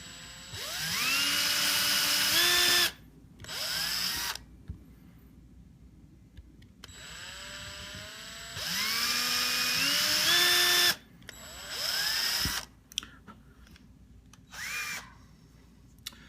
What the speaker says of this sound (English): put it up on your wooden block again and drill nice and easy.